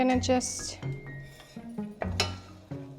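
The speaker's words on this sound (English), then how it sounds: "just roasting it by just stirring it continuously so nothing is put on the bottom" Halwa being roasted and stirred continuously in a pan over medium-high heat, with a spoon scraping and clinking against the metal in irregular bursts, close by, alongside some kitchen clatter.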